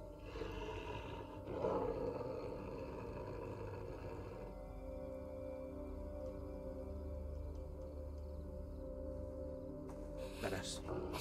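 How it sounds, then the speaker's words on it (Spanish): A growling creature's roar in The Quarry video game, a low, rumbling, sustained growl heard fairly faint beneath ambient sound, with a spoken voice over it at first. "Suena como un león, tío."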